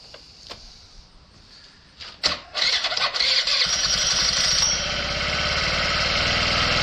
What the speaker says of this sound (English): Starter running.